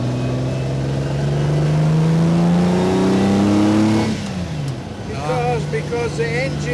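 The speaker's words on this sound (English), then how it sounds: "This is a 12-cylinder transverse engine" A Lamborghini 12-cylinder transverse engine revs with a loud, climbing, sustained roar for about four seconds, then drops off and settles to a lower idle while voices speak over it.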